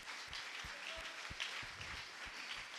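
Church congregation applauding at a service, a faint, steady patter of many hands clapping from a distance, with scattered low thumps and no talk over it.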